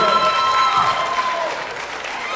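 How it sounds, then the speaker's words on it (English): Crowd applause for Freelance Ruckus, winner of a battle of the bands, fills the room with steady, fairly dense clapping at moderate distance, with a thin sustained tone lingering underneath. "I'll give yourself a round of applause."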